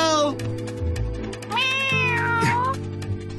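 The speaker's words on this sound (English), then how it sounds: "Meow." A cartoon cat meows several times in drawn-out, rising and falling cries over background music and sound effects from a children's animated episode.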